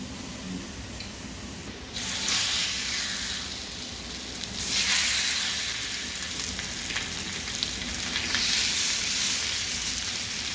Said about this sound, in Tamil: தவா நல்லா சூடாயிடுச்சு. இப்போ நான் எண்ணெய் ஊற்றிடுறேன்.